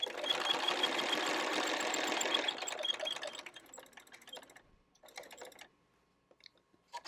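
A sewing machine stitches binding along a crease, whirring steadily for about three seconds, then running in a few short, separate bursts before falling quiet.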